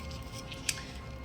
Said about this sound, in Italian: le forbici non le taglia perché è ferro dentro